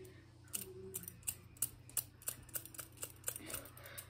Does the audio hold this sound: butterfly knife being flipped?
yes